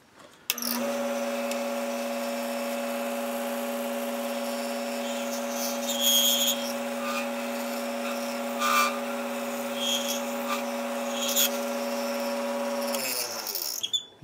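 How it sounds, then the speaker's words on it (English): A wood lathe spins a closed end pen blank held on a friction chuck, giving a steady loud motor whine with strong tonal hum throughout, a few brief higher scraping bursts, and a wind-down at the end; no talking. "let me show you how this friction chuck is working"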